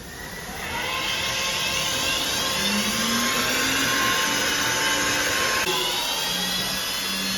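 A Marsden IMOP floor scrubber starts up and runs steadily, its electric motor whining as a high whir with a rising pitch shift, loud and close, alone without talk.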